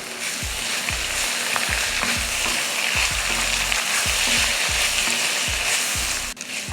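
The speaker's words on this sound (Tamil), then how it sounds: "புதினா மல்லித்தலை போட்டு லைட்டாக வதக்கிக்கிட்டால் போதும்." Mint and coriander leaves sautéing in a pan for chutney, a loud steady sizzle overlaid by rhythmic scraping strokes of a spatula, repeating about every half second, close and without talk.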